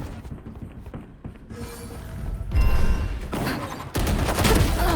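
Vandal rifle in Valorant, firing short loud bursts of sharp shots close by, separated by softer footsteps and movement, with a louder burst near the end.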